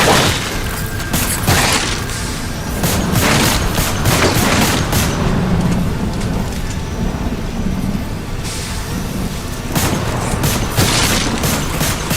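Gunfire aimed at aliens in Lost Planet 3, heavy booming shots and bursts repeated in clusters over a loud, rumbling game battle background with no talk.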